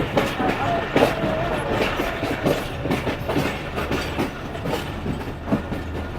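An Awam Express passenger train runs on the rails between Rawalpindi and Lahore, a loud steady rumble with rhythmic clickety-clack wheel beats heard from on board, with a voice faintly underneath.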